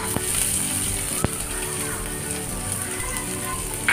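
Onions sauté with chopped garlic in a pan: a steady, close hissing sizzle with faint scattered ticks and pops throughout.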